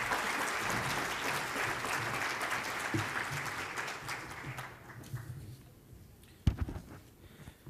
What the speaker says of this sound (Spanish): Démosle un fuerte aplauso.